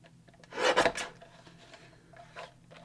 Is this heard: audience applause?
no